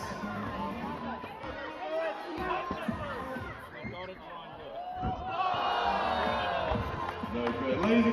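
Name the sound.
basketball crowd cheering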